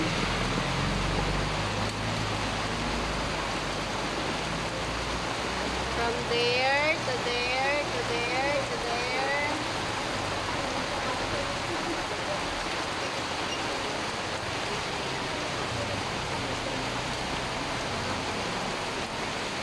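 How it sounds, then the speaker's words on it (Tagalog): Heavy rain pours in Calamba, Laguna, a dense, steady hiss filling the whole stretch, with a person talking briefly over it partway through. "Malakas yung ulan, guys."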